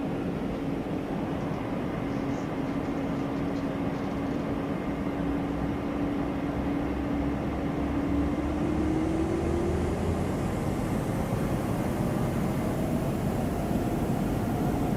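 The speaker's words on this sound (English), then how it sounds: "That's a real nice engine sound right there." A steady Airbus A220 jet engine drone in a flight simulator with a humming tone that slowly rises in pitch as the thrust builds, continuous and even, with no talking.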